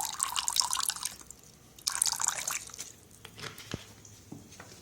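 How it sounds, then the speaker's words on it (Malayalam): A little vinegar splashes into a pot of water for boiling eggs, two short bright pouring bursts followed by a few scattered drips, close and fairly quiet. "വിനാഗിരി ഒഴിക്കുക"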